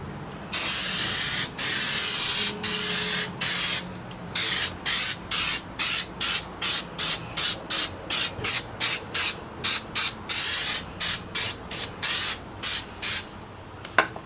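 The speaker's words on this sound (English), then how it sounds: "this second coat I'm gonna spray a little bit thicker" Repeated bursts of spray from an aerosol adhesive can, a long hiss followed by many short, evenly spaced pumps, close and loud with no talking, coating a car's glove compartment part.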